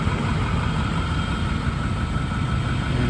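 A 2013 Tiffin Allegro Breeze 32BR motorhome idles with a steady, even rumble at its side exhaust, close and constant with no talking.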